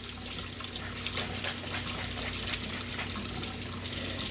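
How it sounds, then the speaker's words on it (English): Water runs and splashes steadily as a nitro RC engine air filter is filled with water and squeezed out, a continuous close wash with no talking. "Let it fill up with water, squeeze it out."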